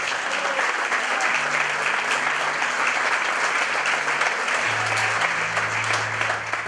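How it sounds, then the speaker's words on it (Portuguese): A church congregation applauds during a Brazilian Baptist worship service, dense and steady throughout, with faint sustained organ or keyboard tones beneath and no speech. "Pode aplaudir Jesus."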